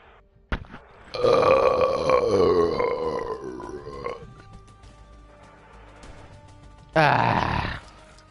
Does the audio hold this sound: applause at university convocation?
no